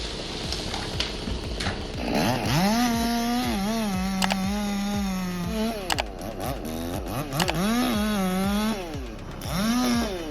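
A chainsaw cuts into a tree on a logging job, its engine revving in rising and falling bursts that snarl loudly, drop briefly and surge again several times, close to the listener.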